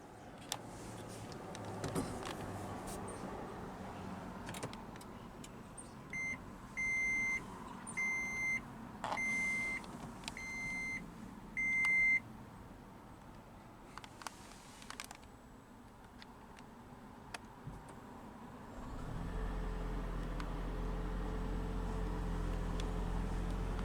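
A 2015 Toyota Prius Four chimes with about five short, evenly spaced electronic beeps from its push button start, with no talking, then settles into a steady low hum.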